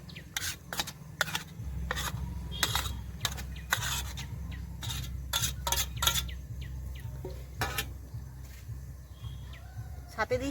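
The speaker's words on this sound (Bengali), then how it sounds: "আমি মশলাগুলো সব মিশিয়ে নিচ্ছি" Ground peanut and white mustard paste being stirred together by hand, a soft repeated rubbing and scraping with short taps, close and quiet, with faint background bird or insect chirps.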